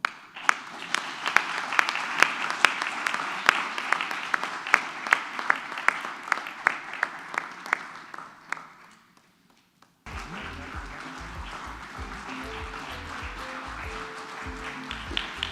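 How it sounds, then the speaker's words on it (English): A farewell felicitation for HE Sunjay Sudhir draws a loud, sustained round of applause from the audience, with sharp individual claps standing out. The applause fades to near silence, and then a different steady background with tonal sounds follows. "A big round of applause."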